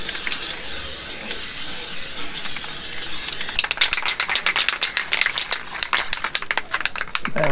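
Grey primer sprays from an aerosol can at close range, first a steady loud hiss, then a series of short rapid bursts with rattling, sharp and near with no talking.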